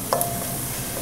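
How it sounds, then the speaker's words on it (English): Pre-minced garlic is stirred into a hot pan of fried stuffed mushrooms filling, a brief scrape over a constant close sizzle. "I'm going to add a little shot of garlic. Just use this pre-minced kind"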